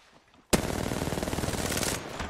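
An AR-99 rifle in a video game lets loose a sudden, loud, sustained automatic burst, the rapid shots running together into a dense rattling stream that continues to the end after a brief quiet lead-in.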